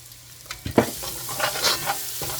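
Curry powder fries in oil in a pan for Guyanese seim curry, a steady sizzle broken by several close scraping stirs of a spoon across the pan.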